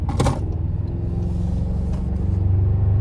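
A 2026 Toyota Tacoma TRD Sport with the 2.4-litre turbo four, heard from the cabin as it pulls out of a corner under light throttle: a brief click, then a steady low engine drone that rises slightly, without talk.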